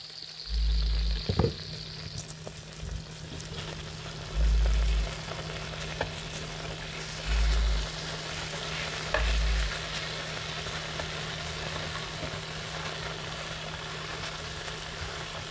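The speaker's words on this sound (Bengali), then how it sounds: "আলুগুলা ভাজি করে।" Potatoes fry in a pan on a home stove, giving a steady, moderate sizzle over a low hum, broken by a few short, heavier thumps. No one talks.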